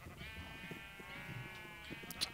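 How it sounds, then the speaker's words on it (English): Sheep in the Minecraft video game bleat in a steady, harmonic drone lasting the whole stretch, fairly loud and close, with faint game clicks underneath. "Oh, those sheep are so loud and annoying."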